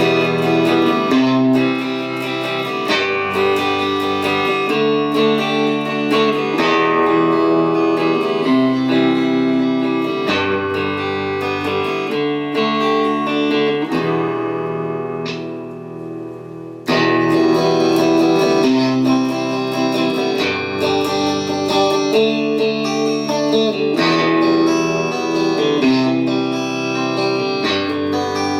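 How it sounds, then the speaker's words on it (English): Fender Eric Clapton Pilgrim copy electric guitar with high output pickups played through an amp, a steady run of chords and notes that breaks off briefly in the middle before resuming. "this Fender Eric Clapton Pilgrim copy with high output pickups"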